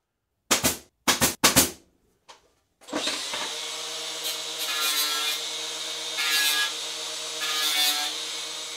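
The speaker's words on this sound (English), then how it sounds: "I'm drilling a 5/8 inch hole, spaced 5 3/4 of an inch away from that strip" A power drill bores a 5/8-inch hole through a 1/4-inch hardboard jig, whirring steadily and loudly after a few sharp knocks and a brief pause, with its pitch rising and falling under load.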